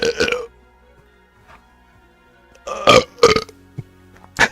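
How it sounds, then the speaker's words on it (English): Several loud close burps after carbonated drink, one at the start and a cluster of sharp belches near the end, separated by near silence with faint game sounds. "Noise burp."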